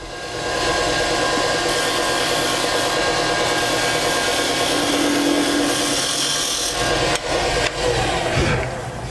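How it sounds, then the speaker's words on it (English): A spindle gouge cuts a cove into wood spinning on a lathe, a steady, loud, continuous turning hiss with a droning motor underneath, holding evenly for most of the stretch before wavering near the end. "with a spindle gouge, I can get a corner that will almost cut you"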